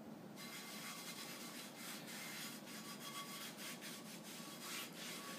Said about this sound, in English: I'll just go and start wiping it around.